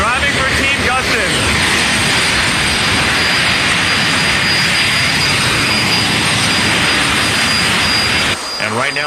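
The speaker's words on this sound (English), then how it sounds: "they're going through the pre-race firefight, one of the most awesome moments in motorsports when the drivers dump raw fuel, that's kerosene, into their afterburner and light it on fire" Pro jet car engines roaring during a pre-race firefight as raw kerosene is dumped into the afterburners and lit, a loud sustained jet blast throughout that drops off abruptly near the end.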